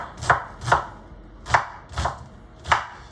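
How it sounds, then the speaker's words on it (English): Knife chopping down through an onion on a cutting board, five crisp, evenly spaced strokes that land close and clear against a quiet kitchen, with no voices. "I can use my finger as a guide as I'm cutting down the onion"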